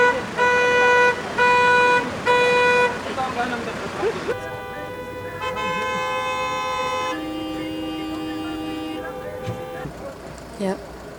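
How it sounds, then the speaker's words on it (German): Car horns honking repeatedly in congested traffic in Morocco, several clear tonal toots at first, then longer sustained honks and a steady horn tone, with road noise underneath. "Und alle hupen irgendwie und fahren irgendwie."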